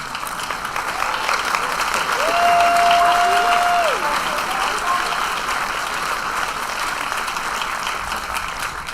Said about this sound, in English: These two deserve a definite round of applause